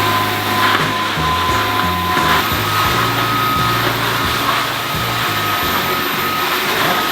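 A G10 Pro vacuum cleaner runs loud and close while cleaning up a mess, a constant whirring motor drone with shifting pitch as it moves over the floor, no talking.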